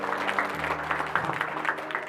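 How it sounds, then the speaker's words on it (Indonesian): An audience at a public speaking training session for teachers claps steadily throughout, a dense and fairly loud wash of applause in an indoor hall. "Tepuk tangan untuk vokasi dan Anda semua yang ada di sini."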